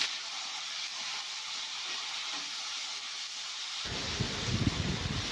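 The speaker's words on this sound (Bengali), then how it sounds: "ওটা আমি ওই তেলে ভেজে নিচ্ছি।" Yard-long beans cut into long pieces frying in hot oil, a steady soft hiss and sizzle that grows more crackly and busy partway through, with no talking.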